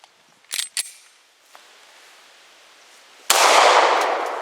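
A 9mm handgun loaded with 115 grain full metal jacket rounds fires at concrete blocks. Two sharp reports land close together near the start, and a loud, sustained broadband burst follows at the end.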